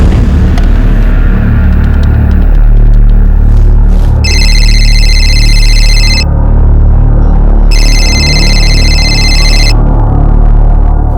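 A landline telephone rings in two electronic bursts with a pause between, heard over a loud, constant low rumble like a running vehicle.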